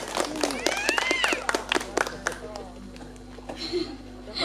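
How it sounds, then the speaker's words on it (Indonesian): Audience applause for performers of a school musical drama at an Indonesian Independence Day celebration, a dense patter of claps alongside a talking crowd, fading out toward the end. "Kasih tepuk tangan yang meriah sekali lagi untuk teman-teman Irma Yuda."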